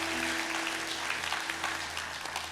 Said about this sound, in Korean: 하나님께 큰 박수 올려드리겠습니다